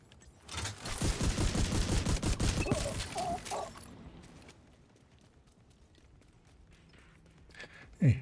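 Video game turrets firing with a Warhound-like sound, a loud rapid burst of shots for a few seconds that fades into quieter ambience, followed by a sharp thump at the end.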